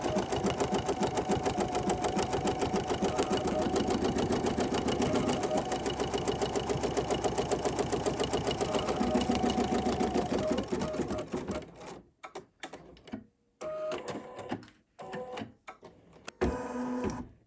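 An embroidery machine stitches a basting run on fabric, a fast, steady, close mechanical chatter for about twelve seconds before breaking into a few sparse clicks and short bursts.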